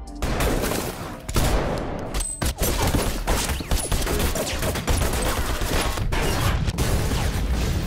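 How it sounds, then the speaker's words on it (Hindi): Gunfire in a gangster movie shootout: dense, loud bursts of rapid shots and impacts filling nearly the whole stretch, with brief gaps, crashing mechanical clatter and a booming low end. "अब जैक और चाओस के बीच फायरिंग होने लगी।"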